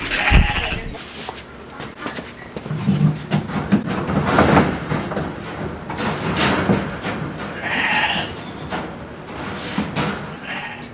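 Goats bleat on a farm in a few loud, wavering calls close by, set against a rough, noisy background of rustling and movement.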